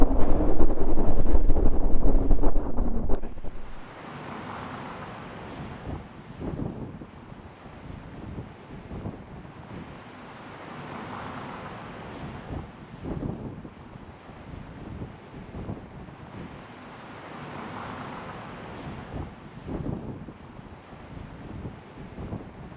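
Strong wind buffets the microphone on a Dutch ferry crossing during a bicycle trip, with a loud roar at first, then steady gusty rumbling over the low wash of water and boat noise.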